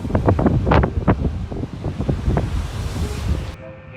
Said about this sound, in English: Waves pound the coast like they're trying to swallow the streets whole.